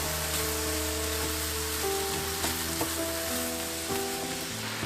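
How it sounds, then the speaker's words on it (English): A blueberry and cane sugar mixture comes to a boil in a pot, a steady crackling bubble with small pops throughout and faint tonal background sounds underneath. "It's starting to get a good boil to it"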